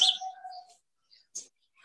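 Birds chirp and tweet in short bright calls, a longer whistled note followed by a few sparse chirps, clear and close with no other sound.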